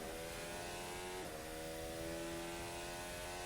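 Race car engine in a racing game at the Qatar Grand Prix qualifying, a steady high whining drone with stacked harmonics and a brief pitch shift as the car passes the line, alone without talk.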